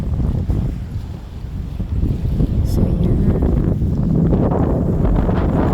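Wind gusts across an open lakeshore in summer, a loud rumbling buffet against the microphone that swells and stays steady, with a person talking briefly.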